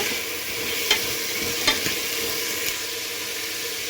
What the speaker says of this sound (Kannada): ಕಡಲೆಕಾಳನ್ನ ಸ್ವಲ್ಪ ಚೆನ್ನಾಗಿ ಫ್ರೈ ಮಾಡ್ಕೋಬೇಕು ಚೆನ್ನಾಗಿ ಒಂದು ಐದು ನಿಮಿಷ ಮೀಡಿಯಮ್ ಉರಿನಲ್ಲಿ ಚೆನ್ನಾಗಿ ಫ್ರೈ ಮಾಡ್ಕೊಳ್ಳೋಣ ಎಣ್ಣೆಯಲ್ಲಿ